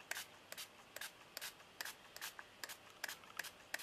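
A handheld spray bottle sends about a dozen short, faint hissing squirts of water onto crackle embossing paste in an uneven rhythm, close by in a quiet room with no talking.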